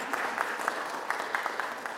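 An audience at a Columbus city council meeting claps for the council, a short, fairly quiet patter of many hands heard from a distance, steady for the whole two seconds.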